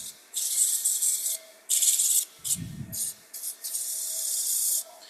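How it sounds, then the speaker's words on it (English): Wood branches are hand-sanded with 180 grit sandpaper in close, scratchy rubbing strokes that come in uneven bursts, with a brief low thump partway through. "I also want to sand the bottom of the branches only"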